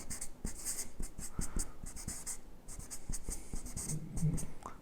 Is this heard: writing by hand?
yes